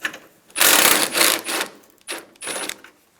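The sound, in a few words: ratchet removing top radiator bolts, Toyota Tundra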